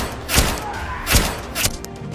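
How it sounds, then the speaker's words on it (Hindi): A special gun fires into a car during an attack: three loud, sharp gunshot blasts about half a second to a second apart, each with a short echoing tail over a low background rumble. "आदमी एक स्पेशल गन निकालता है और कार में फायरिंग करने लगता है।"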